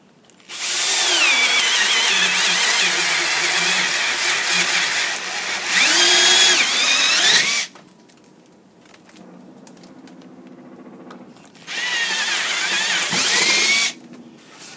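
A power drill bores into wood with a sharpened Harbor Freight ship auger bit, loud sustained grinding whirs in two long bursts with a brief quieter pause between, then a shorter third run, no talking.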